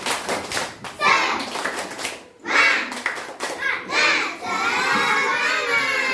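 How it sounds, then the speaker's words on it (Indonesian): Schoolchildren in an Indonesian classroom do a rhythmic spirit clap, bursts of clapping mixed with loud children's shouting and chanting voices, close and lively, with pauses between rounds. "Tepuk semangat!"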